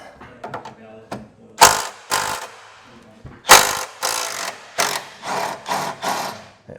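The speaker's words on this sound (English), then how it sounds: "you got to get up in here with a deep socket, and I'm just using a breaker bar to hold it" A ratchet on a deep socket clicks in quick bursts, with a breaker bar holding the other side, while removing A-frame suspension bolts from a 1957 Chevy truck; close, loud repeated ratcheting strokes separated by brief pauses.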